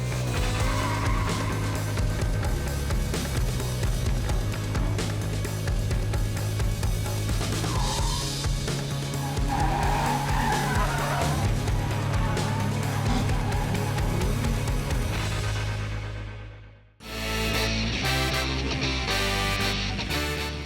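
Race cars being driven precisely around a ROC Skills Challenge course in Barbados, with engines roaring loud and continuous, revving and shifting pitch throughout, a brief cut, then more close engine noise.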